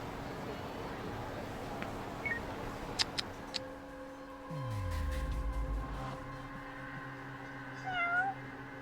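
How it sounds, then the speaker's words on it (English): Cat meows in the video game Judgment, a few short high cries heard intermittently over a steady ambient game background with a low rumble swelling midway, faint to moderate in level. "I heard a cat somewhere."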